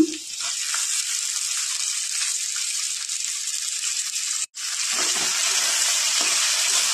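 Boiled-soft potatoes and broad beans sizzle steadily in a hot pan for a Bengali mixed vegetable dish, with a continuous frying hiss and brief stirring scrapes, no voices.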